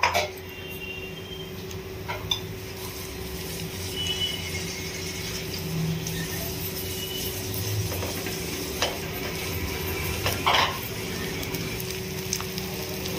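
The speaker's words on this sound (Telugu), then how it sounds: "ఆయిల్ వేసుకున్న తర్వాత సన్నగా కట్ చేసుకున్న ఆనియన్స్ కూడా వేసి ఫ్రై చేసుకోవాలి" Thinly sliced onions frying in oil in a pan, a continuous close sizzle with occasional clicks and scrapes of a utensil stirring, and a steady hum beneath.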